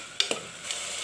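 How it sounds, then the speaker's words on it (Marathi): Salted brinjals sauté in hot oil with a soft steady sizzle, broken by two or three quick scraping stirs of a spoon in the pan, close and moderately loud. "आता हे वांगे मिठाचे आपण तेलामध्ये परतून घेऊ चांगले"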